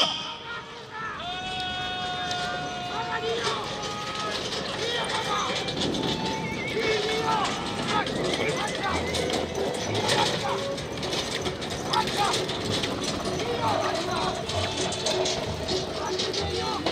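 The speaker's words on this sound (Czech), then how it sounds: "koníky bežia naozaj" Draft horses run in a winter draft horse competition, hooves clip-clopping steadily while a horse whinnies near the start and other animals bleat faintly; a commentator talks over the whole stretch amid outdoor crowd noise.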